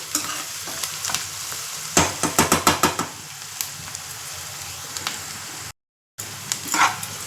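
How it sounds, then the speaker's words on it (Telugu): Sliced onions fry in a pan for a village-style country chicken curry, with a steady sizzle under a quick run of spoon scrapes and taps as they are stirred. A dog may bark faintly in the background. "ఉల్లిపాయలు చక్కగా వేగిపోయినాయి"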